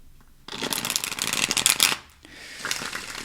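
Tarot cards are shuffled by hand in a close, crisp riffle of rapid papery flutters, a brief pause, then a second, softer burst of shuffling.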